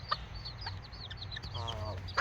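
Serama miniature chickens in a Southern California backyard flock: a hen's soft, low clucks mixed with a steady stream of high, quick cheeping from her chicks, close and fairly quiet.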